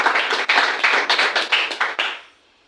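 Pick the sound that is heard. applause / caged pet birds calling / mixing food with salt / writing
applause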